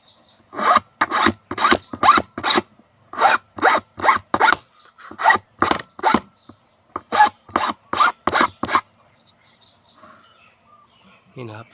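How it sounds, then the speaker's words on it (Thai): Metal file rasping along the side edges of a handmade ring bail, roughly two dozen sharp, evenly spaced strokes in quick bursts with brief pauses, close and clear, then it stops. "แล้วก็ใช้ตะไบเก็บขอบ เก็บขอบด้านข้างนะครับ"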